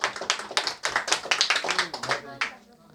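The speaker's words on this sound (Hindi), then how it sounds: "धमाकेदार और जोरदार एक बार अपने लिए तालियां बजा लीजिए बढ़िया से।" A crowd claps together in a burst of applause that builds, holds steady for a couple of seconds, then thins out as hands taper off.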